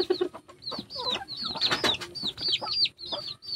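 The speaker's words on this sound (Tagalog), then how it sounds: "Ito yung isa kong labuyo na medyo mailap pa, oh." A red junglefowl (labuyo) clucking and chirping nearby in rapid, busy bursts, with soft scratchy background noise and no talking.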